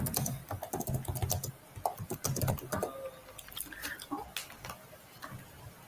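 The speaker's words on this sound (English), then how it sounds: "just typing to him" Rapid clicking of a computer keyboard being typed on, fairly close and steady throughout, with faint background speech mixed in.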